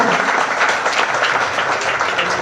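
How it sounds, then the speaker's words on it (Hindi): Loud, sustained applause from an audience at a community ration kit distribution and honor event, dense clapping filling the whole stretch without pause. "तालियां बहुत जोर से बजनी चाहिए"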